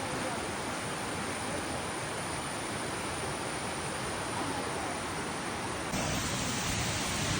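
Hosadevatha waterfall near Ankola beside a temple, a steady, dense roar of falling water with no letup, close and loud, growing slightly stronger near the end.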